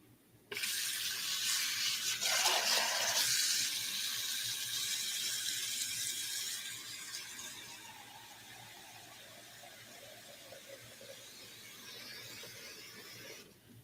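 Tap water gushing into a pot to be boiled, a bright hissing splash that starts abruptly, then softens as the pot fills, with a faint squeal from the faucet.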